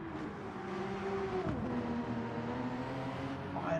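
Porsche GR3 race car in a Nürburgring Nordschleife sim race, engine droning steadily then dropping in pitch around a gear change, moderately loud and passing close.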